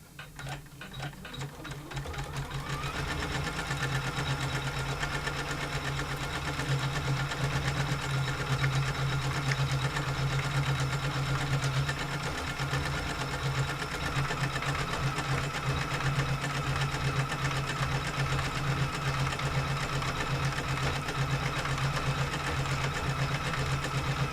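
A sewing machine stitches steadily at a constant speed, a dense mechanical whir and clatter that starts after a brief quieter moment and runs without pause, close and alone with no talking.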